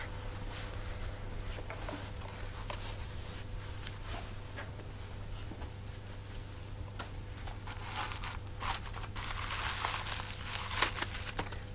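A high-heel shoe is pulled out of its packaging, the paper crinkling and rustling softly at first, then growing louder and denser toward the end, without any voices.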